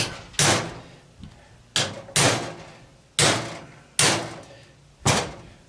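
Hammer blows land on a nut while an electric motor is taken apart for copper scrap, five sharp metallic impacts at a steady, roughly one-second pace, each close and loud with a short ringing decay.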